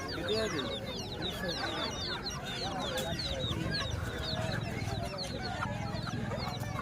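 A flock of chickens clucks continuously at a goat and poultry market, with scattered higher calls and a faint crow, amid background voices.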